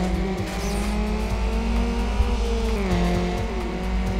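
A race car in Need For Speed Underground revs hard along the track, its engine note rising through gear shifts and dipping between them, loud and continuous throughout with faint tire squeal.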